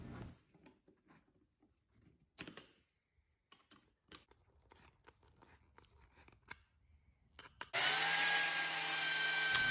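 Metal hose clamps being tightened around glued wooden bowl segments give sparse clicks and ratcheting ticks, then a power driver whirs loudly and steadily for the last couple of seconds, close by with no talk.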